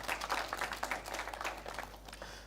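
An audience at a schools quiz final applauds with steady, dense clapping that holds strong and then thins slightly toward the end, over a low constant hum, with no speech.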